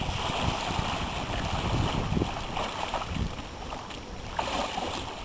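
Water splashes and swishes from kayak paddle strokes, close by, with wind buffeting the microphone and no talking.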